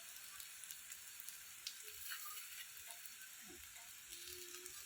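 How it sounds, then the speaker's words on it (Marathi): Taro leaf rolls (alu vadi) topped with sesame seeds fry gently in oil over a low flame, giving a steady soft sizzle with faint crackles and the occasional pop, no voices. "मंद आचेवर मस्त असं तळायला लागलेत आपल्या वड्या"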